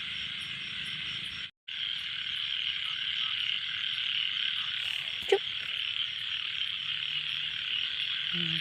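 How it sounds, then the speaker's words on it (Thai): Small frogs croak steadily beside a canal at night, a dense, even chorus with chirping crickets throughout and a brief gap early on; one short vocal sound cuts in near the middle. "เสียงเขียดอู้ ดังคักจ้า"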